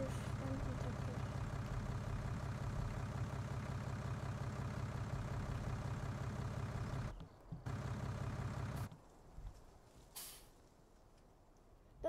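A tractor engine in Farming Simulator 19 drones steadily at idle, loud and continuous, with voices talking over it, then cuts out abruptly near the end, leaving near silence with a faint click.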